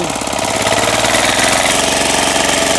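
An old walk-behind tractor with a rotary tiller runs loud and close, its engine chugging in a steady, rough rhythm with a continuous mechanical clatter while tilling soil to prepare a garlic-planting plot.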